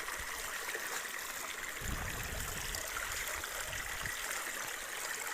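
A small spring-fed stream in a farm field trickles and gurgles steadily, a soft continuous flow of water with no voices, heard up close for the whole stretch.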